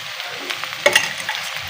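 Minced meat frying in hot oil with garam masala for a kachnar and qeema dish, giving a steady close sizzle with a few sharper crackles and spits.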